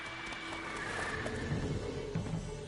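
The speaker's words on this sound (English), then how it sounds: "Whoa there, Rush. Giddy up" A horse in The Witcher 3 video game snorts and whinnies briefly over soft clip-clop hoofbeats, with game ambience beneath.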